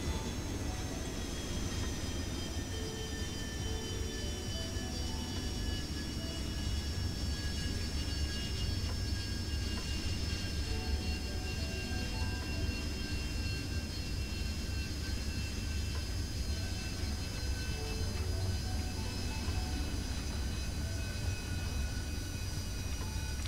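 Harrier GR 3 jet aircraft in War Thunder, a steady, sustained engine roar with a whining high tone that slowly falls in pitch, continuous and fairly close, with no talking.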